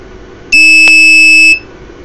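Piezo buzzer on an ESP32 circuit sounding one steady, loud electronic tone for about a second, starting and stopping abruptly over a quiet room hum.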